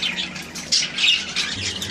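Australian parrot chicks squawk in a dense, continuous chorus of high, harsh calls with several louder bursts, close by and with no talking.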